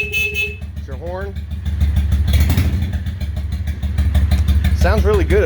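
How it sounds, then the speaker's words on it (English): A 2003 Honda Shadow 750 Spirit cruiser motorcycle gives a short horn toot over its steady idling engine rumble, and a voice speaks briefly nearby. "it's your horn."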